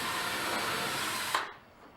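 Power drill boring into an old tire for a firewood-splitting tool build, a steady broadband whir running close and loud for about a second and a half before cutting off abruptly and trailing away.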